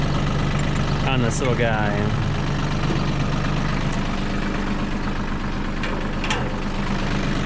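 A small tractor with a multivator attachment idles nearby, a steady low rumble running throughout while someone talks over it.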